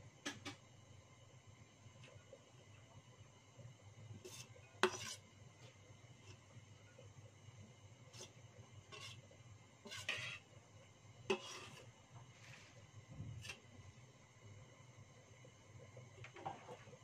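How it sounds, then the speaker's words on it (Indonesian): Chopped carrots and spring onion stirred in a pan for a squid snack, sparse scraping and clinking of a utensil against the pan over a quiet background, with several sharper knocks spread across the stretch. "Aduk-aduk sampai merata ya."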